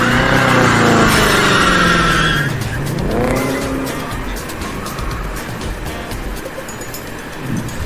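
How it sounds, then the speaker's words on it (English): A BMW doing donuts in a freshly painted parking lot, engine roaring as tires squeal in long wavering howls, then dropping into rough skidding and rumble as the car slows. "When a BMW driver was doing donuts in a freshly painted parking lot"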